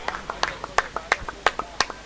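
Spectators at a cricket semi-final clap for batsman Divesh with a thin scatter of individual hand claps, sharp and fairly close, in an uneven rhythm.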